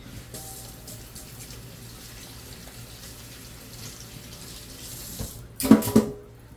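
A kitchen sink tap is turned on for a brief, close gush of running water near the end, after several seconds of quiet room noise with faint handling sounds.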